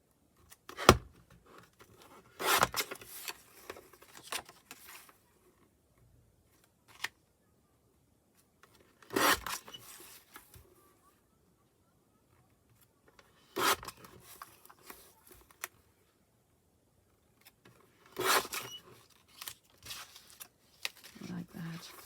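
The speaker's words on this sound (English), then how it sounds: "I cut them out with the scissors" Scissors cut pictures out of paper and magazine pages in several separate bursts of crisp snipping and rustling, each a second or two long, spaced by quiet pauses.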